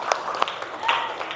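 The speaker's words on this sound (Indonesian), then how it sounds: "Ya, tepuk tangan buat Sehan." Brief scattered clapping from a small class of pupils in a primary school lesson, a few quick claps rising and fading over about a second, mixed with faint voices.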